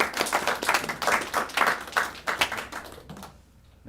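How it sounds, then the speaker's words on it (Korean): A church congregation claps together during a testimony and thanksgiving service, giving lively, uneven applause close by that fades out after a few seconds. "박수 올려드리겠습니다"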